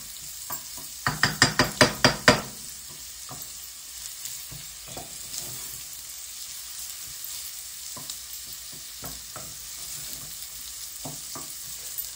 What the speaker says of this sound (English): you want to mix it in with the sausage and the residual fat that's on the bottom of the pan